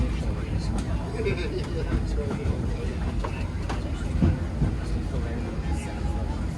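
The Disneyland Railroad steam train rolls along its rails with a steady low rumble and faint clacking from the cars, while a recorded announcement plays over the noise.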